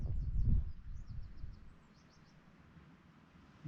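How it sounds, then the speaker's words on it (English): Faint, distant seabird calls over the island of Staffa, with the sea nearby. A short series of thin chirps sits over a low, soft rumble of wind and surf. "sound of the sea and bird life around"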